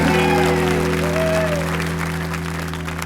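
Comedy show audience applauding a woman brought up on stage, a steady crowd clapping under sustained musical tones and a speaking voice.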